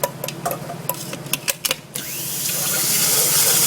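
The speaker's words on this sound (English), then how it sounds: "You're gonna let that blend for about a minute and a half." A milkshake blender whirs into a steady rising drone while blending two eggs for an omelet, preceded by a few short clicks and knocks as it is set going.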